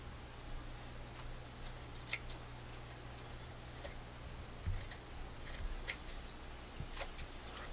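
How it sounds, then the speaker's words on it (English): Scissors trim fabric for an in-the-hoop mug rug, a series of quiet, close snips scattered irregularly over a low steady background hum. "We will need to trim the fabric."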